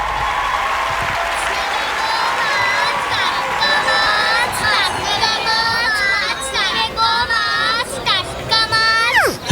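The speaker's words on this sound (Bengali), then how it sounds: "একটা জোরে হাততালি হয়ে যাক আমাদের অ্যাডভান্স ব্যাচের জন্য" A crowd applauds loudly and continuously for an advanced dance batch at a children's annual show, clapping layered with excited high chatter and cheering voices.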